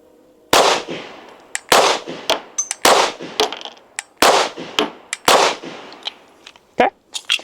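A Canik SFX whiteout 9mm pistol fires a slow, evenly spaced string of sharp, loud shots outdoors, each crack trailing a short echo, with no voices between them.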